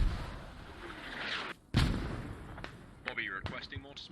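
Enemy mortar shells burst in a combat video game on the Fools Road map, with a heavy booming impact mid-clip followed by sharper cracks and distant rumbles, as voices talk over the battle.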